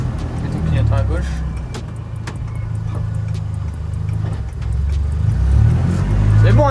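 A car at the Les Andelys hill climb comes up fast, its engine growling loud and close, rising and falling under excited talk in the spectator's car, with clicking from a turn signal.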